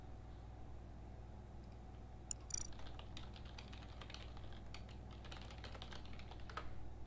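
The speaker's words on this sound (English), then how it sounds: "I'm just typing some info in the chat" Steady typing on a computer keyboard during an online Among Us game night, a dense run of light clicks and key taps close by over a low constant hum, with no voices.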